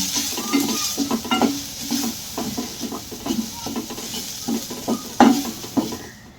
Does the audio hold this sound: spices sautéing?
yes